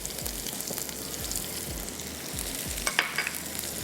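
Sliced onions fry in a pan with paprika and salt, giving a dense, steady sizzle throughout with soft stirring scrapes and a few brief clinks near the end, close and even, with no talk.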